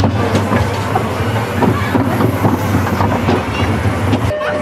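A Vekoma roller coaster train rumbles and rattles along its track nearby at a theme park, with clacking wheels and wind buffeting throughout.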